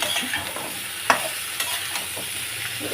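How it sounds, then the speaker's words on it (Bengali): Ridge gourd frying with spices in a pan, a dense continuous sizzle with a few sharp spatula scrapes and clicks, close up and without any talk. "এটা তো কষা করছে, মশলা সব দিয়ে কষা হচ্ছে।"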